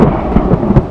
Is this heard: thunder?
yes